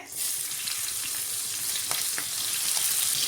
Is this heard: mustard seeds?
yes